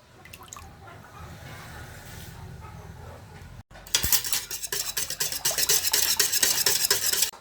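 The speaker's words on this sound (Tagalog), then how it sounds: "Yan, mix natin. Mix well." Gulaman mamon batter being mixed in a bowl: soft stirring at first, then brisk, rapid clinking strokes of a utensil against the bowl, loud and close, with no voices.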